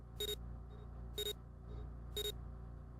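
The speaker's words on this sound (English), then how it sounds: "Beep, beep, beep." Three evenly spaced electronic beeps from numbered bracelets being scanned in the video game 999, each short and bright, roughly one second apart over a low hum.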